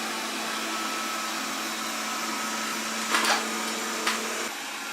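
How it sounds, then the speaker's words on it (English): A Proscenic 820S robot vacuum runs with a steady whirring hum as it sucks up cracker crumbs and raisins, with a couple of brief louder rattles as debris goes in, and no talking. "Okay, it's just getting all the crumbs right up."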